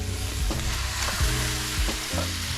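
Steady, loud sizzling of jumbo crayfish on a low-heat char grill with occasional soft scrapes and shifting as they cook, close up.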